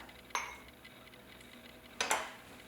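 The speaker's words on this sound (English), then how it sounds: "Let me just use this knife to get that in there." A knife scoops miso paste into a dressing, giving two brief metallic clinks against a bowl about two seconds apart in a quiet room.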